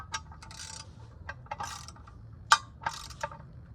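A ratchet clicks in short repeated bursts while snugging bolts on a 3-piece wheel, close and fairly crisp, with a sharp metallic clink standing out among the bursts.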